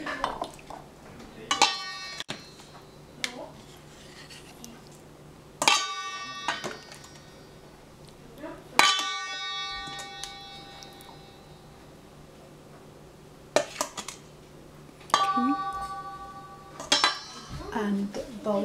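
Tomato, basil and feta go onto a serving plate in a home kitchen: scattered clinks and clatters of utensils against dishes, some sharp and ringing, spaced irregularly, close by, with quiet talk in the background.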